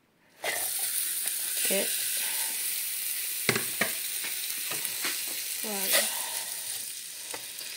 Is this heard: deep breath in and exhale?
no